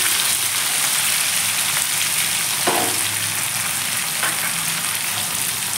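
Tomatoes frying in a pan give a steady, dense sizzle with faint crackles and a couple of brief stirring scrapes, close and continuous with no talking.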